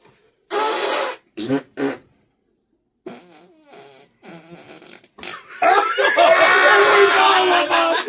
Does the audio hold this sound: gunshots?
no